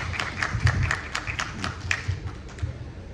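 An audience clapping to welcome poet Marco Martos at a book presentation at the Lima book fair: a short burst of scattered, moderate applause from a small crowd that thins out toward the end.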